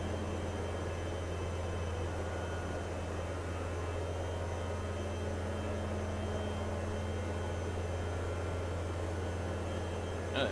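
A Sky Rascal powered parachute in the MSFS 2024 video game runs at full power, producing a steady, unbroken engine drone with a constant low hum and broad airy noise. The sound is continuous and fairly quiet, with no talking.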